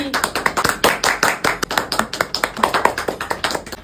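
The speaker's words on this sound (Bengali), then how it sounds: "দিদির জন্য একটা জোরে হাততালি" A small group claps loudly and unevenly at a comedy show to welcome a contestant. The sharp claps come in a quick, dense run that lasts a few seconds.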